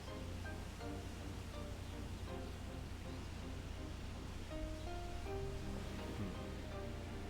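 Steady, broadband rushing ambience like a distant waterfall in the video game Shenmue II, a continuous wash of water-like noise with faint musical tones layered over it and no talking.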